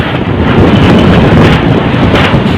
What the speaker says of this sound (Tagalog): Nakapangingilabot ang lakas ng hanging dala ng bagyong Rolly